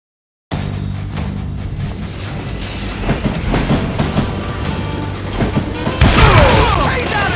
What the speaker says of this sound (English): It was definitely safer on the inside of the train.